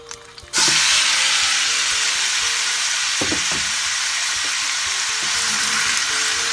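Chicken hits hot oil in a pan and bursts into a loud, close, continuous sizzle that holds steady, with a few faint stirring scrapes underneath.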